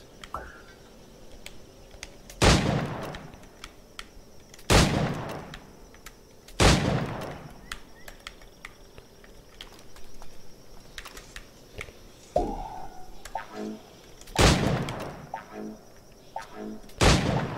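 Gunshots fired at targets in the video game Assassin's Creed IV: Black Flag: single loud, sharp reports spaced a couple of seconds apart over quiet ambient game sound, with faint clicks between shots.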